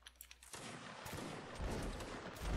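Musket volley gunfire crackles through a video game line battle, a massed burst of overlapping shots erupting after a quiet moment and rolling on loudly and continuously to the end.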